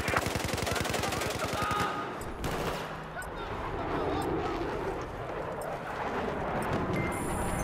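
Machine gun fire rattles in rapid continuous bursts during a Battlefield 4 match on the Golmud Railway map, dense and loud, layered with other battle noise.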